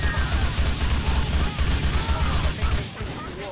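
Dense, continuous gunfire from GTA crackles loud and close in a rapid sustained barrage for about three seconds, then drops off abruptly near the end.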